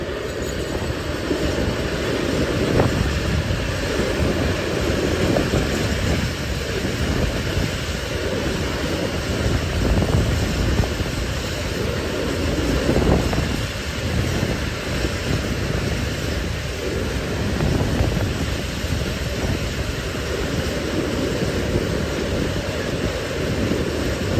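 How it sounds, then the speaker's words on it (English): CD Cargo locomotive 182123 hauling an empty petroleum freight train in central Poland gives a continuous heavy rumble of rolling wagons, loud and steady, mixed with strong wind noise. "182123 heads north with an empty petroleum train destined for Gdańsk"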